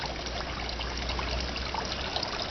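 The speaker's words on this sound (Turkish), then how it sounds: "Besin tankımızın içerisindeki suyu pompamız vasıtasıyla yine damlama sistemini kullandık." Pump-fed drip irrigation in a soilless hydroponic system, water trickling steadily and continuously at close range, fairly quiet and alone with no voices.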